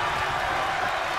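A wrestling arena crowd in the video game WWE 2K22 roars in a steady, loud, unbroken wash of cheering.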